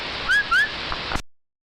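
Two short rising whistles heard over a ham radio channel during a local evening ragchew, thin and bright against a steady hiss of static, before the transmission cuts off into silence.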